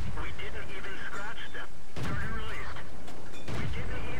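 Tank cannon shots at an IS-2 in a tank video game, heavy booming blasts cracking out about three times under continuous talk by a commentator.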